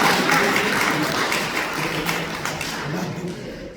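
Applause from a church congregation at a Sunday worship service, a dense wash of many hands clapping loudly at first, then gradually thinning and softening, with a voice faintly heard.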